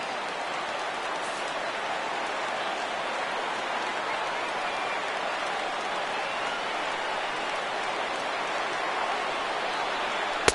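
A large stadium crowd of about 33,000 in the MLB The Show baseball video game rises and cheers, a steady, dense roar of noise that holds evenly for about ten seconds.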